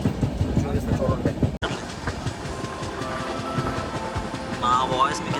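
A train runs along railway tracks near a mountain trekking route junction, with a continuous rolling rumble and rhythmic clickety-clack of wheels on rail joints, a brief cut early on, and voices heard alongside.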